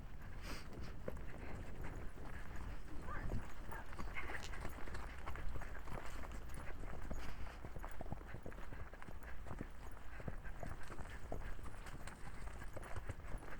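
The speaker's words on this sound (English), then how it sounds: "let's pick up another light trot" A horse's hooves clip-clop in a steady light-trot rhythm on a trail ride, fairly faint and continuous over a low rumble of wind and movement.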